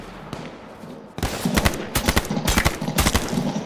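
Rapid bursts of video game gunfire, sharp repeated shots in quick volleys, loud and close, following a quieter moment.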